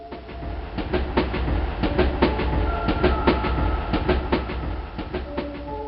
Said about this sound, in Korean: 곧 덜컹거리며 기차가 출발하자